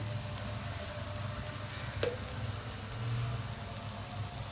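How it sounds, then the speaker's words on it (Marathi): Cumin seeds crackling in hot oil in a pan after onion and chillies are pushed aside, a steady soft sizzle with faint popping, close and alone with no talk. "हे जिरे टाकून द्यायचे लगेच म्हणजे लवकर फ्राय होते"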